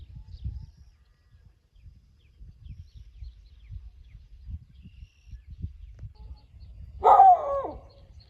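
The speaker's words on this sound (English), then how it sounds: "Dogs barking at the cows over there on the ridge" A cattle dog barks at cows on a ridge near a campsite, heard as faint, distant low barking across the clip, with one louder, nearer bark-like call near the end over soft background noise.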